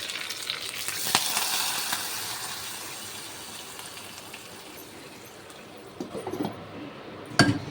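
Spices for a phoron tempering sizzle steadily in hot oil in a pan, a loud close hiss with a sharp clink or two and some light stirring near the end.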